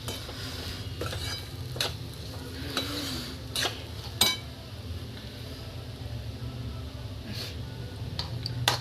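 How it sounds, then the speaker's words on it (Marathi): Semolina being stirred and roasted in a pan with onion for upma, a soft continuous frying hiss broken by repeated sharp spoon clinks and scrapes against the metal pan, close by, with no talking. "रवा टाकल्यानंतर चांगलं मिक्स करून घ्यायचं."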